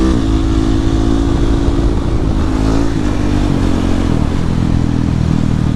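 A Husqvarna 701 single-cylinder motorcycle rides along the road, its loud close engine note rising and falling through throttle changes with steady road and wind rumble and no talking.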